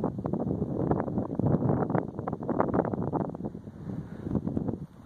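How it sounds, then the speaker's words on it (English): Wind gusts across an old cemetery, a loud, steady, broadband roar with buffeting rushes against the microphone throughout and no talk. "You can probably hear the wind."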